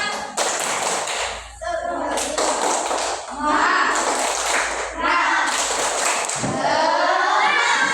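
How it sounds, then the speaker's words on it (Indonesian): Classroom group performing a rhythmic clapping chant, sharp claps in patterned bursts with children's voices chanting along, loud and close throughout. "Coba tepuk semangatnya bagaimana? Tepuk semangat."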